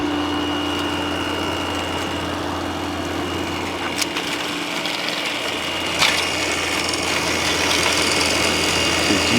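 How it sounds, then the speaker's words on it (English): A Midea 5000 BTU window air conditioner with a GMCC compressor runs on low cool, giving a steady, fairly loud mechanical hum and fan drone. A faint click sounds partway through, and there is no talking. "Yeah, the compressor comes on."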